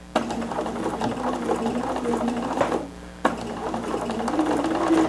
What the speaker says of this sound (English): Now I'm sewing with a very soft drapey crepe